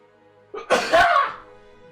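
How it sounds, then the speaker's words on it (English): A single person sneezes once, close and loud, a short sharp inhale building into an explosive burst that trails off, with no talk around it. "I gotta sneeze."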